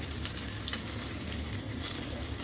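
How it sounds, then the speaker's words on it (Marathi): Alu vadi, sliced colocasia leaf rolls, fry in shallow oil with a close, continuous crackling sizzle that holds evenly throughout. "हे बघा वड्या आपण तळून घेऊ"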